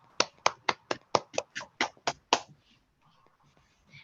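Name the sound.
applause from the audience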